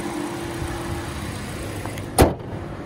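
The 2013 Hyundai Elantra's dual overhead cam 16-valve engine runs smoothly at idle with a steady, even hum heard from close by, and one brief sharp clunk near the end.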